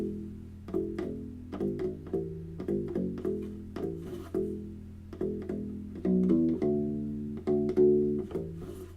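U-Bass playing a bass line, a steady run of plucked rubbery low notes with slides, close and fairly quiet, no voices.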